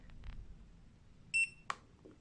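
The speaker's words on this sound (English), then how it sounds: "hold the left button until you hear a beep." A single short electronic beep from a Mata T2 tire pressure sensor tool after its button is held, a clean tonal chirp followed by a faint click against a quiet room background.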